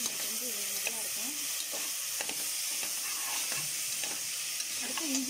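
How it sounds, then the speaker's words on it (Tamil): Tomato and onion sauté in a pan for chicken biryani, a constant soft sizzling hiss near the mic. Light taps and scrapes from stirring are scattered through it, with a faint voice murmuring now and then. "தக்காளி வெங்காயம் நல்லா வதங்கிடும்"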